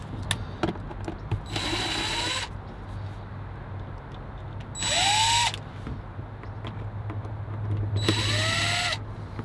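A power drill backs screws out of a console lid on a Tahoe, Suburban, Yukon or Avalanche in three short whining bursts with the pitch rising, each separated by quiet handling clicks.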